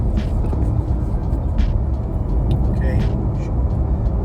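A car rolls along a Florida road near De Leon Springs with a steady low engine and road rumble at the 10,000-mile mark, while a voice speaks briefly.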